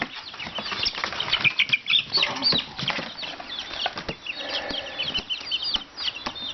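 Chickens cluck and squawk close by while wings flap in bursts, a busy, restless flurry of farmyard fowl.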